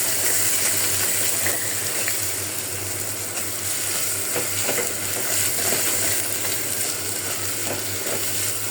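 Rice and spices frying in a pan and being stirred, a steady close sizzle with scraping and clinking from the stirring running through the whole stretch, no talk.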